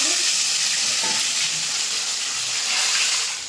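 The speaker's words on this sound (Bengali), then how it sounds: "বাকি যে মাছগুলো আছে একইভাবে কিন্তু ভেজে নেবো" Pieces of silver carp fish fry in oil in a wok, producing a loud, dense, unbroken hiss and crackle heard close up and alone.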